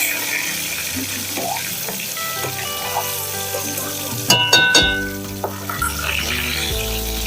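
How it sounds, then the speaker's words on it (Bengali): Small bhola fish sizzle in a pan of hot oil, a steady crackling hiss that briefly flares louder partway through, with no one speaking. "মাছগুলো এবার ভালো করে ভেজে নেব।"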